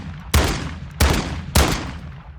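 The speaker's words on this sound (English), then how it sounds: "I shot 4 times, and you see me miss every single one of them" Three loud, close shotgun blasts from Call of Duty Modern Warfare II with an extended-range shotgun, firing at a steady, roughly even interval, each with a sharp crack and a decaying boom.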